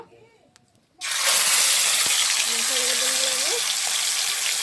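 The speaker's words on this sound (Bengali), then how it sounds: "তো ইয়াকে এখন আমি ভাজে নেব" Fish head and tail dropped into hot oil for a village-style fish curry, a sudden loud sizzle that bursts in after a second of quiet and keeps hissing steadily, with a voice talking over it.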